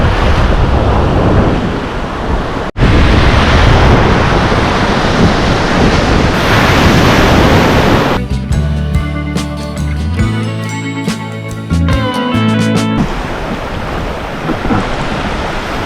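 Sea surf rolling onto the beach near Om Beach, Gokarna, a steady loud wash of breaking waves, interrupted midway by a burst of music before the surf noise returns.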